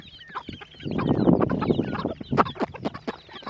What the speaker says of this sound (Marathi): दुसरी एक पिलाची कोंबडी ही एक ही पिला आता जवळजवळ दोन महिन्याची झाली